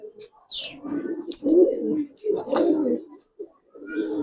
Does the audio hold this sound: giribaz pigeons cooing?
yes